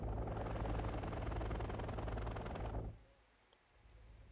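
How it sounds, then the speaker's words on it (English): A dense, loud roar of South Korean UH-60P military helicopters in the strategy game Wargame: Red Dragon fills the first three seconds, then cuts to near silence. "So it looks like we have some South Korean helicopters, I believe."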